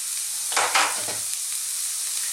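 Onions and fresh garlic drop into hot canola-type frying oil with a bright, steady sizzle that flares with a couple of hissing surges as they land, then settles to a constant hiss.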